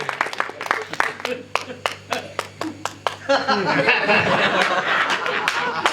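Audience at a Hindi poetry gathering, with sharp, separate claps at first building into steady, full applause, mixed with chatter and light laughter.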